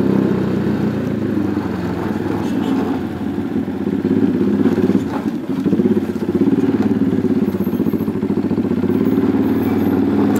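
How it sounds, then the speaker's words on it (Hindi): A motorcycle engine drones steadily close by as the bike rides slowly along a wet, water-sprinkled road, its rumble rising slightly midway with some light clatter. "बाइक आराम आराम से निकालते हैं यहाँ से"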